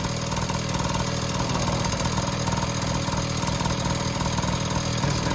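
A Honda Urban Express motorbike, a spare-parts bike with carburetor issues, runs steadily close by, its small engine putting out a constant buzzing, slightly clattery drone with no talk.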